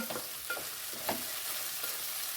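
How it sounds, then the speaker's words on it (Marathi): Chopped onions sauté in a pan for paneer matar masala, a close, even sizzle broken by a few light scraping strokes of stirring, no talking. "कांदा छान परतून होतो मऊ होत आला"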